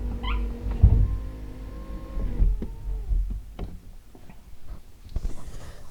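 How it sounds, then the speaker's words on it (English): Electric window motors whine steadily in a 2007 VW Beetle convertible as the windows run down and back up, with a few soft clunks and taps in between, up close in a quiet cabin. "you're going to press and hold until they all go down"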